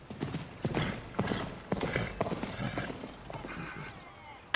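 Knights' horses riding in a medieval joust, hooves clip-clopping in an uneven galloping rhythm at middle distance, with a whinny, the beats thinning out toward the end.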